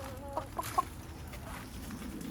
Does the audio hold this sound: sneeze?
no